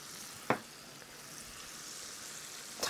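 Shrimp sautéing in a pan for lemon garlic shrimp, a steady soft sizzle running throughout with two brief louder clinks or stirs near the start and end.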